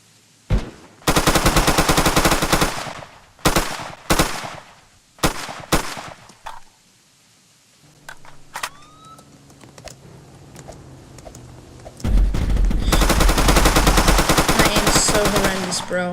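Video game gunfire comes in loud, dense automatic bursts, first in short stabs and then a long sustained volley, with a quieter stretch of game sounds between them.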